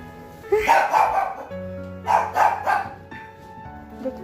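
A dog barks in two bursts of several sharp, close barks separated by a pause, against a quiet indoor background.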